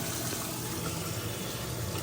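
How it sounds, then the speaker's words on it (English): Cold water gushes steadily into a Kenmore stack washer made by GE, a constant rushing flow with no pauses. "Cold water's filling."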